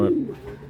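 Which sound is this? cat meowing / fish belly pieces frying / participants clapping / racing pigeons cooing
racing pigeons cooing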